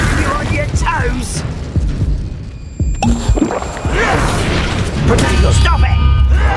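Confringo fire spell explosions in the Hogwarts Legacy video game, booming blasts and crackling bursts repeating through a busy duel amid other combat effects, with a voice shouting over the fight.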